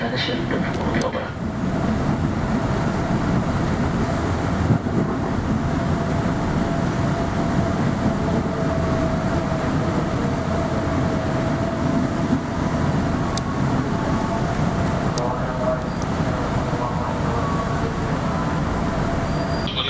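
A KRL commuter electric train runs out of Bekasi toward Jakarta Kota, heard from inside as a constant loud rumble and rail hiss with faint clicks and occasional squeaks throughout.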